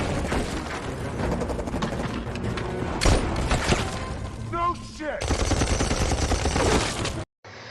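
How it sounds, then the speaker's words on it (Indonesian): Heavy gunfire from a film shootout crackles in dense, overlapping bursts of shots, loud and close, mixed with a busy soundtrack and effects before cutting off abruptly near the end. "Terjadi aksi tembak-tembakan yang cukup sengit"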